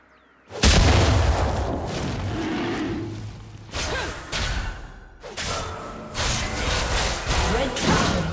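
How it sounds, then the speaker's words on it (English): A turret being destroyed in League of Legends comes through as a sudden heavy boom, followed by rumbling crashes and further impacts amid ongoing game effects, with an announcer voice heard. "Red turret has been destroyed."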